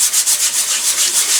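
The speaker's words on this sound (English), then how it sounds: "go over it with the sanding block" Sanding block rubbed over CA glue on wood in steady back-and-forth strokes, about six or seven rhythmic rasping passes, close and alone.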